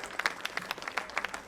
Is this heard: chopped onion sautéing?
no